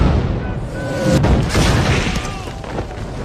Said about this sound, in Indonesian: pasukan Jerman mulai melakukan serangannya di sebuah garis pertahanan Kompi E dengan menggunakan Meriam 88-nya